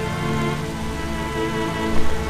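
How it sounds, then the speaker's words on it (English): Steady rain falling in a cemetery, a dense continuous hiss of drops on surfaces, loud and close with no voices, a slight swell near the end. "it's still raining"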